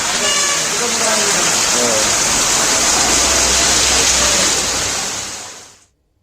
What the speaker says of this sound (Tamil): பல்வேறு இடங்களில் கனமழை பெய்தது